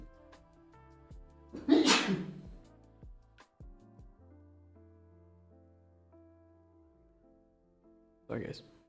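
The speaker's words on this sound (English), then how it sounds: "Hold on, I might have to sneeze." A person sneezes once loudly and close up, a sharp explosive burst, followed by a quieter second sneeze-like burst near the end against a faint background of music.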